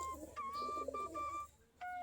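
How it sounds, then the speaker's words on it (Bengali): Native Giribaz pigeons feed on paddy grain in the morning, giving soft repeated calls and short tonal notes over a low background murmur at close range. "আমাদের দেশি গিরিবাজ কবুতর"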